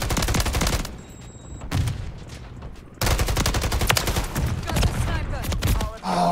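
Call of Duty MW3 gunfire rattles in dense, loud bursts through most of the stretch, pausing briefly midway before resuming, with a voice speaking over the action.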